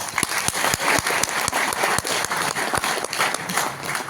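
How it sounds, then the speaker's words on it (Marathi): Audience members clap loudly and continuously, a thick patter of many hands with several sharp, distinct claps punching through at a near-regular beat, close and sustained the whole time. "तर खरोखर तुमच्यासाठी तर जोरदार टाळ्या पाहिजे"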